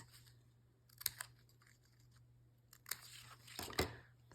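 Scissors snip freehand through paper to shape a small beak, producing a few faint, quiet cuts and rustles, with a cluster of crisp snips toward the end.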